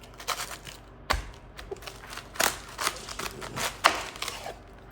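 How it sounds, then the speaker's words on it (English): A knife cuts through a whole head of cabbage on a cutting board, giving scattered sharp taps and crisp cracking thuds with one heavy chop near the start, close and fairly loud, with no talking. "We're gonna cut it in half, and we're actually gonna use half of this,"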